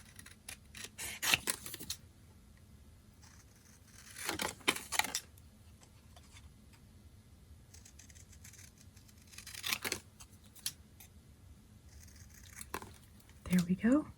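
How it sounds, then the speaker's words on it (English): Several short bursts of crisp snipping, spaced a few seconds apart, scissors cutting out a paper Santa's Workshop piece for a fun fold card close by, with quiet pauses between. "So I'm just going to use my scissors."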